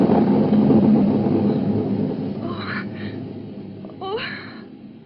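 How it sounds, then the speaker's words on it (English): Thunder rumbles as a sound effect in an old suspense radio drama: a low, rolling roar that slowly fades, followed by a brief breathy voice near the end. "It was only thunder."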